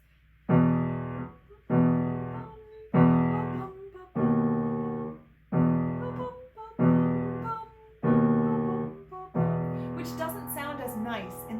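Eight sustained piano chords in a minor key are struck one after another at an even pace, each ringing briefly before the next; a voice begins speaking at the end.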